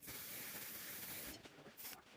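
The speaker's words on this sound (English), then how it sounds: "one size setting spray" One Size makeup setting spray is misted onto a face in a series of quick, faint hissing sprays, the first a long continuous burst followed by two short puffs, close to the mic with no talking.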